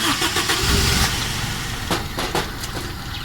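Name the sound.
car engine starting and running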